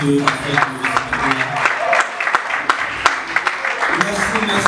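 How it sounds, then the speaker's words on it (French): Applause from a church congregation welcoming a brother about to share his biography, a steady patter of clapping with scattered sharp claps, mixed with background voices throughout. "S'il vous plaît, un peu des applaudissements, s'il vous plaît."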